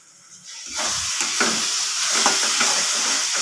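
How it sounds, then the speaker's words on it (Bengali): Spice paste with a little sugar fries in a pan, starting quietly and then breaking into a loud, steady sizzle and hiss, with scattered scraping stir strokes throughout. "মশলাটা আর একটু ভালো করে কষিয়ে নেব"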